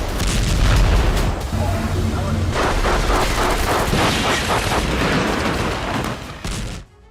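Heavy booming blasts from an Israeli airstrike on a residential area of central Gaza roll into a continuous, loud rumbling roar of explosions and debris that fades abruptly at the end.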